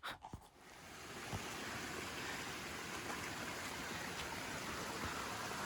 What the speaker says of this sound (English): I think the little waterfalls are pretty too.